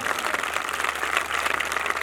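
Church congregation claps in a steady, dense patter of many hands, moderately loud and continuous over a low background hum, with no talk.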